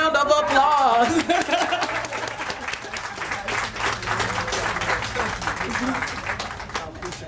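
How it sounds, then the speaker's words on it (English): An audience applauds at the dedication of an urban agriculture innovation center. The clapping is loud and dense at first, then eases to a steady patter, with some crowd murmur and brief laughter and a voice at the start. "can we have a warm round of applause?"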